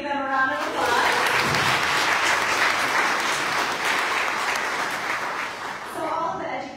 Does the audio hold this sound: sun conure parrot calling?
no